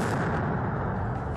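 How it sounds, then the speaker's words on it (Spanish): Loud, dense blasts of dynamite stick explosions boom one after another at a street protest in Potosí, Bolivia, merging into a continuous heavy rumble. "con explosiones de cachorros de dinamita"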